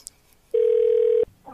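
Telephone ring during a Halloween special radio show: one clean electronic tone burst of under a second, loud and close, with faint background sounds before and after.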